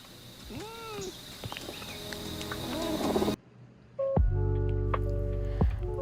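A clouded leopard calling: soft bird-like chirps and mewing cries over a low rumbling growl, then a brief hush and a louder run of tonal purring and growling calls up close, no talk.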